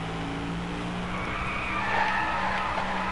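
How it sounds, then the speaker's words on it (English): Car tires skid and squeal during a chained drift in the Driveclub racing video game, a continuous loud screech with engine roar underneath, swelling slightly toward the end. "trying to chain drifts is not easy"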